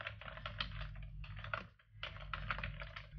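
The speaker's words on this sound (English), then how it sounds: "type in email tracker." Fingers type a search query on a computer keyboard in two quick bursts of close, crisp keystrokes with a short pause between them.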